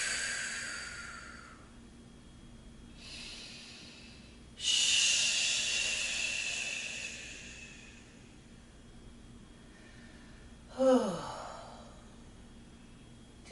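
Slow, deep breaths during a bedtime yoga session, with a few drawn-out airy inhales and exhales separated by quiet pauses and one sharper, louder exhale near the end, close and fairly soft.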